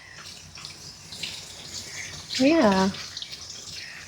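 Warm tap water runs into a tub for bathing a Coton de Tulear dog, a soft steady rush in the background, briefly joined by a squeaky rising tone and a short spoken word.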